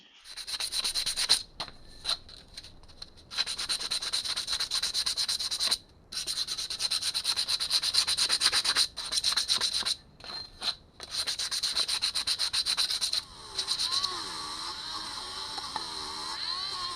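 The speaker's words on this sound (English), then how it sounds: "Okay, so that's rubbed down." Abrasive rubbing works over a BSA B50 conical front hub in repeated back-and-forth strokes, scratchy and close, with brief pauses between bursts.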